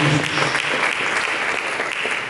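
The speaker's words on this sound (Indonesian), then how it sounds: "Mari kita berikan tepuk tangan yang mulia bagi Yesus." Congregation at an Indonesian church sermon applauds for Jesus, a dense, steady wash of many hands clapping close and loud, continuing throughout with no pause.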